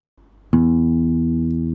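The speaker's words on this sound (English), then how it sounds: "The string is thicker, the sound is low." A single low note plucked on a thicker string, sounding once after a brief soft touch and then ringing and sustaining clearly to the end, alone.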